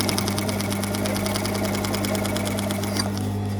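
A sewing machine stitches fabric while skipping stitches, running steadily with a fast, even mechanical chatter and a constant motor hum, close and fairly loud throughout.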